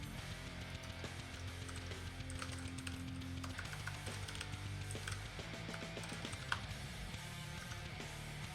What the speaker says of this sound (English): am I typing the stupid command wrong?